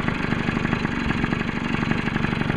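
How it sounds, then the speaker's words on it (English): A warm 1995 Tomos Targa moped idles steadily after starting, its small engine putting out a continuous, even putter at close range with no pauses. "It starts a lot easier that way. So, idle's pretty good."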